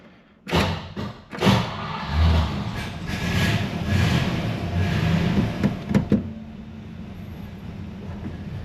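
A Tri Five Chevy engine cranks with a few heavy thuds, then catches and runs with a steady low rumble for several seconds before the idle drops away, heard up close with no talking.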